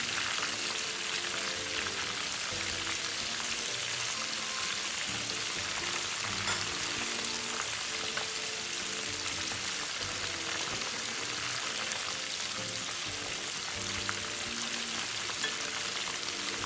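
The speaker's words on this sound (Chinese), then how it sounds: "虾很容易熟，油炸个1到2分钟后，虾表面酥脆后即可捞出了。" Fresh shrimp deep-frying in a pot of hot oil over medium heat, pushed around with chopsticks, giving a steady, dense crackling sizzle that holds evenly throughout with no voices.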